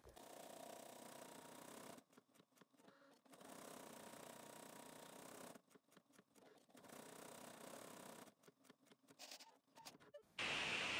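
An embroidery machine stitching onto stabilizer, a steady rapid mechanical whir and chatter in long runs, broken by short stuttering pauses, heard close with no voices.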